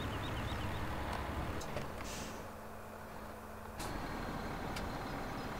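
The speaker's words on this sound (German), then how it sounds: "Und er fährt wieder die Klappe zu und er fährt wieder runter." Annaburger HTS trailer in Farming Simulator 17 closing its flap, heard as a steady mechanical hum with a hydraulic whine and a brief hiss partway through, near and alone.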